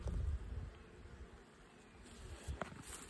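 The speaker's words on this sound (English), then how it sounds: "These hives have really quieted down here in the last few weeks." Honey bees buzz around backyard hives, a soft continuous drone with faint wind, quiet and somewhat distant.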